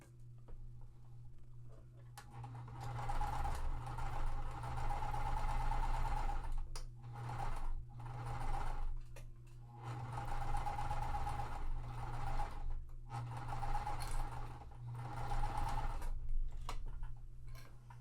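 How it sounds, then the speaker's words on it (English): A sewing machine stitches along the edge of cotton quilt pieces for a Tree of Life quilt, running in several bursts with short pauses between them, a steady mechanical whir and tick close by with no talk. "we are going to sew along that edge there"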